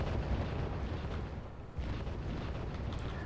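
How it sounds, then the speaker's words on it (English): Mortar fire pounds through a video-game battle as a dense, continuous rumble of overlapping distant explosions and booms, with no speech. "the mortars are definitely helping with that"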